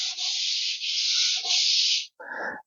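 A fresh sheet of 240-grit sandpaper rubbed by hand along an MDF edge: three long, steady sanding strokes, each a bright hiss, then a shorter scraping pass at the end, close and alone.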